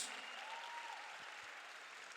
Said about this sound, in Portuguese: Dá uma forte salva de palmas para Jesus